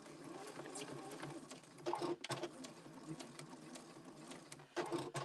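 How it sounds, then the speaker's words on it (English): A sewing machine stitches appliqué stars onto a patriotic table runner with a steady, close, rapid mechanical chatter that continues throughout, briefly interrupted by a short pause. "we're going to stitch these 4 beauties on real quick"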